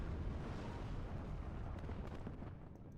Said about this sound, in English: BMP under fire by the rockets now.